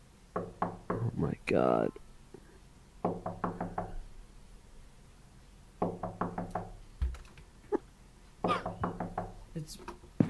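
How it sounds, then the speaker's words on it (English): Someone knocking on a closed door in bursts of quick raps, several rounds separated by pauses, fairly close, with a person exclaiming briefly in between. "I've been knocking for hours."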